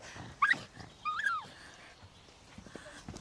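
A pug gives two short, high whimpers close by, the second slightly longer and wavering, over a quiet background with a low rumble at the end.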